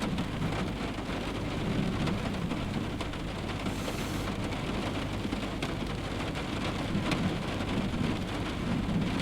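Steady heavy rain, a dense continuous patter and wash that fills the whole stretch at an even level, with a low rumble underneath and no voices.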